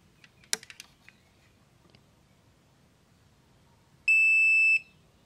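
A multimeter on continuity mode gives a single clear, steady electronic beep of under a second while testing a capacitor in a set-top box, preceded by faint clicks of probes touching the board.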